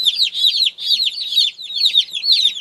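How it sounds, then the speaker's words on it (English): Assorted bantam chicks peep in rapid, high-pitched bursts, several birds calling over one another close by with no talking. "Assorted bantams."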